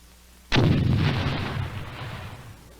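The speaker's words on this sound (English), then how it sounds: "this is actually a sonic boom" Sonic boom passed through a low-pass filter: a single sudden, heavy blast that hits hard and then rumbles and decays slowly over about two seconds, loud and alone.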